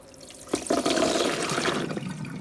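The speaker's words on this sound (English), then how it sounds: "strain them out and then rinse" Running water rushes steadily over overnight-soaked almonds being rinsed after straining, a continuous close splashing stream that starts abruptly and holds for about two seconds.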